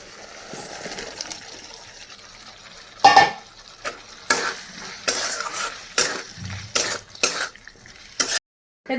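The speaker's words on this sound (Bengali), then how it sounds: "এদিকে আলু সাঁতলিয়ে নিচ্ছি" Potatoes are sautéed in a pan tempered with mustard seeds, bay leaf and whole cumin. A spatula scrapes and clatters against the pan in irregular close bursts over a faint background sizzle.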